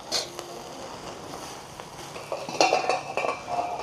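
A spoon scrapes and clinks against a pan as street-style egg noodles are stirred, with quick metallic taps and rubbing that grow busier toward the end.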